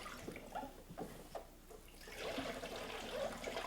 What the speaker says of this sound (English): Make sure to pour the used sulfite solution back into your glass container for further use.